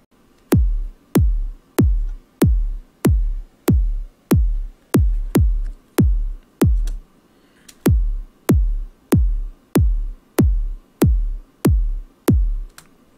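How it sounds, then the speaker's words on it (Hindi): Processed kick drum playing a steady pattern in FL Studio: punchy, deep thumps with sharp attacks repeating at an even pace, with one brief gap partway through and no talk. "तो अभी आप ये किक सुन पा रहे होंगे"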